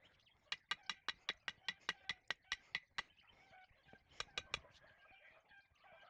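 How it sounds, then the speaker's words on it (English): A chicken clucks in a rapid, regular run of sharp calls, pauses briefly, then lets out a few more loud clucks against quiet outdoor background. "This chicken's going insane."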